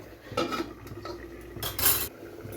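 A metal lid clatters onto a pot of fish curry, giving a couple of close, bright clinks and scrapes of metal on metal, heard without speech.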